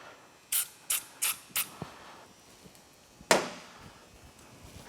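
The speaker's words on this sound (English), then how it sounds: "we want to go ahead and spray it down with a little bit of brake cleaner" Four short, sharp bursts of brake cleaner sprayed in quick succession onto an ATV front brake master cylinder, then a small click and a longer hissing spray, close by with quiet gaps between.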